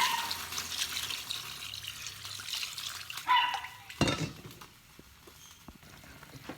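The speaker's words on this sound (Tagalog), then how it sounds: "Pagkatapos igisa, lagyan ng tubig." Water poured from a container into a pot of sautéed chicken for tinola, a faint splashing and trickling pour followed by quieter kitchen sounds.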